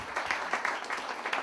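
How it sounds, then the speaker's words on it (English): Quiet, brief applause from an audience, a soft patter of clapping hands heard from a little distance over a few seconds. "You guys can clap."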